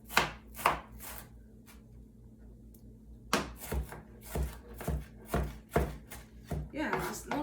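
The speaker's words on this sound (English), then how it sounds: "Keep chopping." Knife chopping food on a cutting board in a home kitchen while cooking birria: a few quick chops, a pause, then a steady run of firm, even taps close by, with people chatting in the background.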